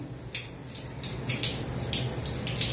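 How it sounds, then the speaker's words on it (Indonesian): Water draining out of a Ferroli water heater, a steady splashing trickle with faint dripping, close and moderately loud with no talk. "Ini airnya saya buang nih."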